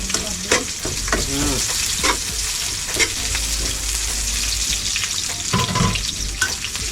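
Garlic and onion sizzling loudly in a hot pan while being stirred, with a constant crackling fry broken by scraping utensil strokes and occasional clinks, heard close and without speech.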